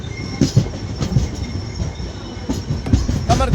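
The MGR Chennai superfast express, train 12163, runs between Yerraguntla and Kadapa with a steady, close rumble and rhythmic clickety-clack of wheels over rail joints throughout.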